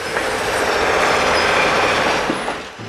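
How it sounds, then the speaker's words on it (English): Southern 4501 steam locomotive and its train roll past at a road crossing with a loud, steady rumble and rush of wheels on rails, faint squeals riding on top before it starts to fade. "the steam locomotive definitely marking its presence in the area"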